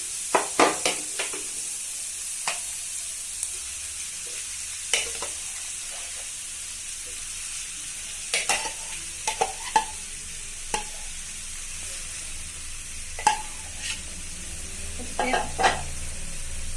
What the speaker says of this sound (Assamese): আলুখিনি মই 5 মিনিটমান ভাজি ল'ম